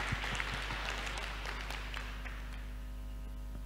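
Audience applause at a hypnotherapy seminar in Manokwari for Pak Fritz, a steady wash of many hands clapping that starts fairly full and slowly fades over a few seconds, with a low hum underneath and no talking.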